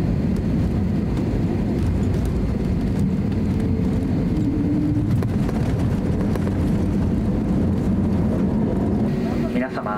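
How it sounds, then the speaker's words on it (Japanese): An ANA airliner cabin just after landing at Naha Airport fills with a loud, continuous low rumble of engines and airflow, with a voice speaking over the drone. "Dear passengers, we have landed at Naha Airport."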